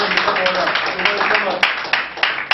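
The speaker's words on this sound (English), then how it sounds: "let's give Brother Bomani a round of applause" An audience applauds Brother Bomani at a Ghana tours gathering, brief moderately loud clapping with a few sharp individual claps standing out near the microphone.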